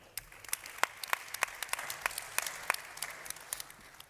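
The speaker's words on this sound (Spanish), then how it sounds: "Un fuerte aplauso también para ella." An audience claps at a plenary session of a national aggregates industry congress in Córdoba. The applause is sparse and moderately distant, with individual hand claps spaced throughout.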